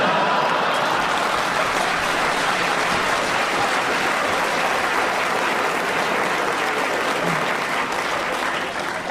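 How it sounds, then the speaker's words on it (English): A studio audience at a radio panel game show claps steadily and fairly loudly for several seconds, an even wash of applause with no speech over it. "Oh, you are wicked to clap that, aren't you?"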